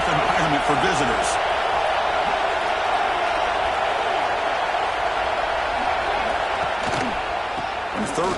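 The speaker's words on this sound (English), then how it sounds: "Listen to the crowd energy here in the early going." A large stadium crowd roars steadily at an Alabama versus Georgia Tech football game, a dense continuous wash of cheering and noise heard throughout, with a commentator's voice faintly underneath.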